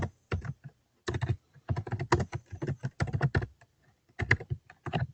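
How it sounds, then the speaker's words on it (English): A name being typed on a computer keyboard comes through as bursts of quick clicky keystrokes separated by short pauses, close and clear, with no talking. "I'm going to type a name in the chat window."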